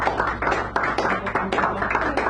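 Small audience at a San Francisco cafe poetry reading claps for a poet, a close, uneven patter of hands from a modest crowd with a low steady hum beneath.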